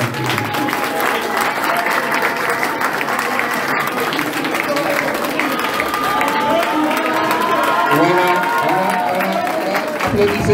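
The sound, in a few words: audience applause and cheering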